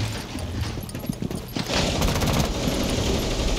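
Rapid bursts of automatic gunfire crackle in the Rainbow Six Siege multiplayer video game, with close, dense volleys of shots that intensify midway and continue steadily to the end.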